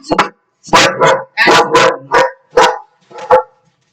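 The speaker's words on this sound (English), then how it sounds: "there's the dog." A pet dog barks sharply about seven times in quick, loud bursts close by, with a short pause between each bark and no other sound around them.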